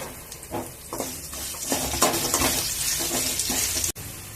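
Chopped onion fries in a hot pan with garlic, dried and green chillies and curry leaves, giving a steady close sizzle broken by scraping stirs across the whole stretch, with no talk.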